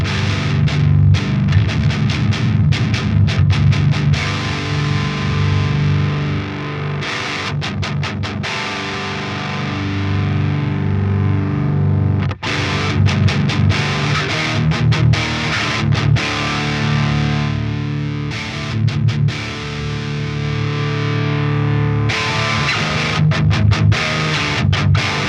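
Heavily distorted electric guitar played through a Fortin Big Chugs, tight palm-muted chugs and ringing chords with a heavy bottom end, loud and continuous with brief stops, no talking.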